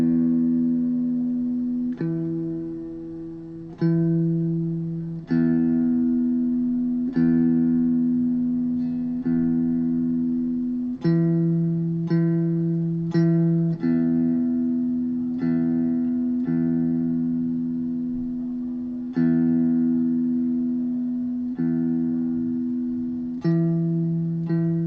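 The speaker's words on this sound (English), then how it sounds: "single coils, Sparky, they're noisy" Single-coil electric guitar, neck pickup selected, played through a tuner with noisy hum: sustained plucked notes repeated every second or two, each decaying before the next, with a steady electrical buzz underneath and no talking.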